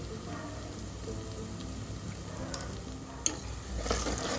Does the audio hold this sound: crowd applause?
no